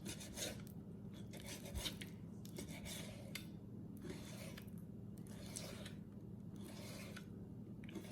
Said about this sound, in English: we're gonna start off by slicing our pork into small strips